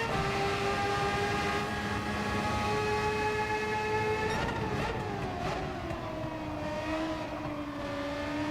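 Engine of a classic-style car in Gran Turismo 7 (Spec 3 update), a steady sustained drone with rich harmonics, pitch shifting mid-way as it revs and settles, loud and continuous without talk.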